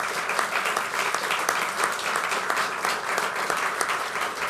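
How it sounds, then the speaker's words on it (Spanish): Sustained applause from an audience at a joint presidential declaration between Peru and Bolivia, honoring technical teams; a steady dense wash of many hands clapping, loud and continuous throughout. "un aplauso para ellas, para ellos por este gran resultado de trabajo"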